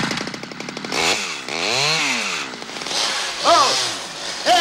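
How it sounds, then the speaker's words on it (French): A chainsaw revs up and down in uneven surges, its engine whining and bogging between bursts, loud and close throughout. "C'est pas que j'ai quelque chose contre les tronçonneuses."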